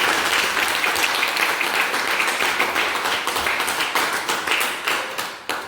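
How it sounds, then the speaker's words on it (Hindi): People at a meeting give a hearty round of applause for a newly promoted colleague, many hands clapping close and strong, the clapping growing more distinct and uneven toward the end. "उनके लिए जोरदार तालियां"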